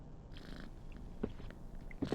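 A cat purring in a video game, a soft, quiet, continuous rumble with a few brief clicks and thumps.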